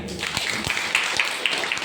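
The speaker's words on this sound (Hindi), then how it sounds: "इसलिए अपने लिए एक जोरदार ताली बजाइए" Brisk applause from a seated audience at a business marketing-plan seminar, many hands clapping at once in a steady, moderately loud patter.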